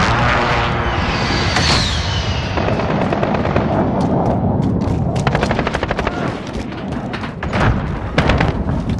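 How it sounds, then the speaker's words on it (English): Precision airstrike explosions in Call of Duty Modern Warfare, with a helicopter-like roar giving way to loud rapid blasts and rattling gunfire, no voices. "Precision airstrike inbound."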